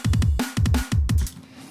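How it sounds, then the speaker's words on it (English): A quick electronic drum fill: rapid kick drum hits with sharp snare cracks, two bursts in a row, then a short decaying tail. "kind of a double kick and a snare immediately followed by like more kicks and more snare"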